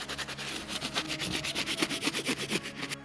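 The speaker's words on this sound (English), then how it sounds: "I'm gonna go over the same exact areas just to give it a deeper scrub, specifically on the white stitching." A medium-bristle brush scrubs the white stitching on beat-up White Cement Jordan 4 sneakers in quick rhythmic back-and-forth strokes, about a dozen close scratchy rubs, with no talk.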